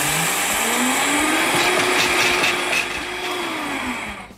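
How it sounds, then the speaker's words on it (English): A kitchen blender whirs loudly as it mixes banana and flaxseed for chocolate balls, its motor pitch rising and then falling slightly over a few seconds of steady, close grinding. "I just started the blender"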